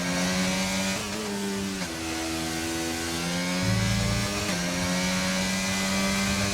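F1 car from the F1 2022 video game at full throttle with DRS open at Zandvoort, a loud high-pitched engine wail climbing through quick upshifts with brief pitch drops between gears.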